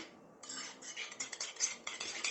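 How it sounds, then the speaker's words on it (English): A utensil scrapes and clinks against a pan while spicy mussels are stirred, with soft irregular metallic scraping and rattling shells that sound close and fairly quiet. "So we're going to give it a good stir."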